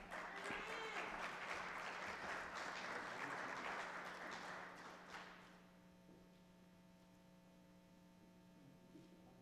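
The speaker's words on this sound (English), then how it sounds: "Please join me in giving a rounding applause again for all of our graduates" Applause for graduates at a fall graduation ceremony, a sustained wash of clapping from a large crowd that dies away after about five seconds, leaving a steady mains hum.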